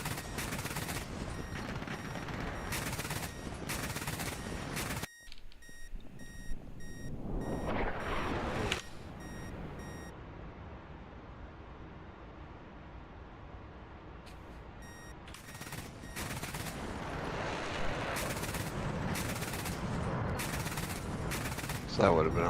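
Gunfire in the DCS World flight simulator: long stretches of rapid, dense shots in bursts, loud and harsh, separated by a quieter rumbling interval of engine-like noise.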